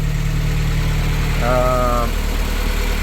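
A Porsche 924 Turbo idles steadily with a low, even engine rumble, while a brief tonal whine rises over it midway through.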